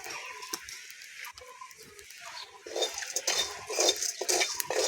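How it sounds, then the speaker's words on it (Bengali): Whole spices including cloves, with a little salt, rattle and scrape in a dry pan as a utensil stirs them, with clinking metal, growing busier and louder toward the end. "শুকনো খোলায় ভালো করে ভেজে নেব সামান্য নুন দিয়ে দেবো"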